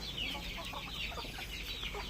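Laying hens cluck softly in a short run of quick, repeated calls, faint and close with no other sound.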